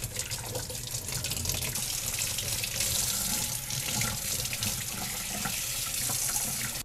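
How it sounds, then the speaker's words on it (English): Tap water runs steadily over a plant's roots in a sink, a continuous close hissing splash that holds at an even level with no talking. "I would just run some water over here, over the roots, just to get rid of more"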